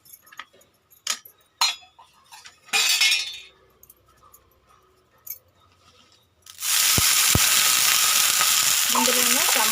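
Ingredients for village-style gongura chutney fry in a pan: a few clinks and stirring knocks come first, then a loud, continuous sizzle takes over.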